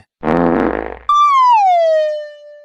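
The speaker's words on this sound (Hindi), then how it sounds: "नहीं भैया हमने पाद लिए" A single loud, buzzy fart about a second long, followed by a descending whistling tone that glides down and trails off.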